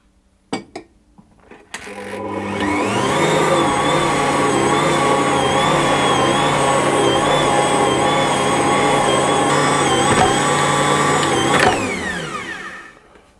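An Ankarsrum stand mixer kneading cinnamon bun dough: a couple of clicks, then the motor starts and runs as a steady, loud mechanical whir with a faint rhythmic wobble for about ten seconds before stopping.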